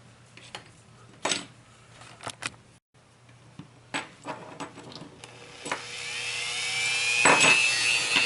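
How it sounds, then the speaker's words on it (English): A Dremel rotary tool notches a groove into a Hot Wheels die-cast car base, with short, separate bursts of grinding and then a longer, steadier whine that builds toward the end. The tool is close by, and no one speaks. "let me get my Dremel and we'll notch out that groove"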